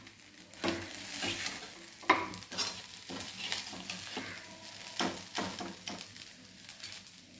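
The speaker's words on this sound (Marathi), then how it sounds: "इकडं तूप पण आपलं चांगलं उकळत आहे" Ghee made from milk cream bubbling and sizzling in a pan at home, a steady close crackle with repeated stirring scrapes throughout.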